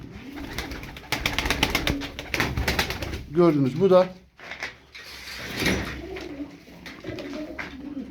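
Dumanlı tumbler pigeons coo in a loft, a few soft throaty calls rising between stretches of someone talking close by, with some scraping and clattering.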